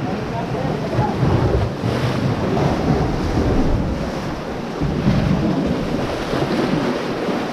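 Ocean surf at a windy fishing spot on the Guam coast, a steady broadband wash of waves rolling in with gusting wind buffeting the microphone throughout, loud and continuous with no voices.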